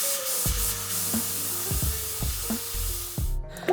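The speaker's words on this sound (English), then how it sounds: "a handheld steam cleaner with a nozzle attachment is amazing for getting into seams and" A handheld steam cleaner fitted with a nozzle attachment works into seams and crevices, giving a steady close hiss broken by a regular series of knocking bursts with a low tonal hum underneath.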